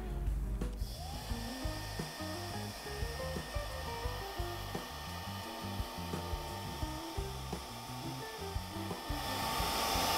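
A hair dryer blows steadily to dry glue on gift packaging, a constant whirring roar with faint rhythmic rubbing and handling noises, close and loud throughout.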